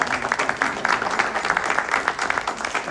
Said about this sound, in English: So please give a round of applause to Pastor Deckard.